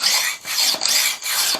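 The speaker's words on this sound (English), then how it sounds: "lay this down and put the Arkansas stone on it flat up," Dollar store scissors are sharpened on a medium Arkansas stone: close, loud, gritty rasping strokes, about four back-and-forth passes in a steady rhythm with brief gaps between them.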